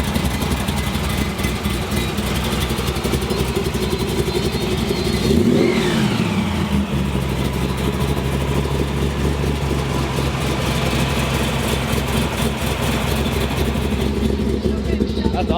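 A Plymouth Barracuda with a shaker hood scoop revs hard once, the engine note swelling and dropping, then settles into a loud, steady, lumpy idle close by, with people talking over it.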